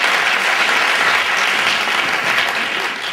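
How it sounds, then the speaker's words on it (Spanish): Sustained, loud applause from a storytelling festival audience at the closing event, dense steady clapping filling the whole stretch without a break. "Para darles un fuertísimo aplauso, porque sin ellos esto no hubiera sido posible."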